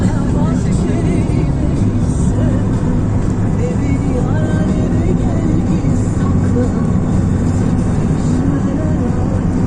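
Renault Clio 4 engine revving during a driving lesson on a practice course, a loud, steady rumble with road noise throughout while people talk inside the car.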